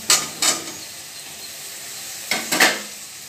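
Vegetables sizzle steadily in a hot pan while a spoon scrapes and stirs them in two pairs of quick bursts, close up and with no talking.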